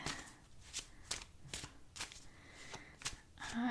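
Tarot cards are shuffled by hand in a quiet room, a series of quick crisp riffling bursts repeating at a steady rhythm, close and soft.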